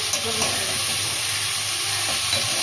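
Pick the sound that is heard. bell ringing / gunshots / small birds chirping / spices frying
spices frying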